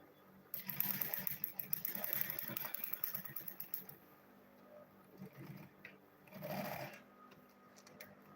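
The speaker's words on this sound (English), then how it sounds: "So let me go ahead and sew it here." A sewing machine runs in quick rhythmic bursts while stitching fabric for a homemade lunch bag, close and fairly quiet, stopping and starting with short pauses between runs.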